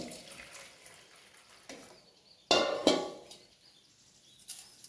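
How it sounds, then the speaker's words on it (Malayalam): Hot water splashes and pours in a few short bursts, two louder gushes in the middle, with quiet gaps between them. "ഈ വെള്ളത്തിൽ നിന്ന് കുറച്ച് വെള്ളം എടുത്തിട്ട്"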